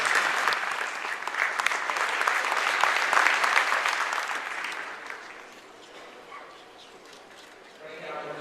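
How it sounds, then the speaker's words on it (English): A conference audience at the IIT 2013 Global Conference in Houston applauds the speakers with a loud round of clapping that holds for several seconds, then fades into quieter room noise and a few lingering claps. "we'll give them another round of applause."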